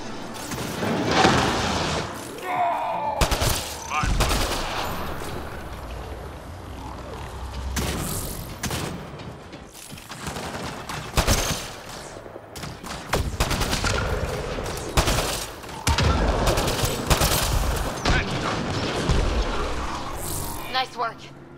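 Shotgun blasts and gunfire in Mass Effect Andromeda, repeated loud bursts scattered through a busy firefight with booms and game effects, with voices talking over the combat.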